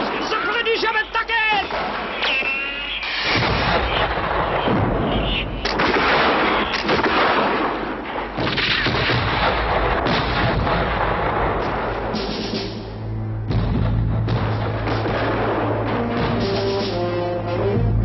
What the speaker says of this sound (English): Fire the cannons! The British have attacked!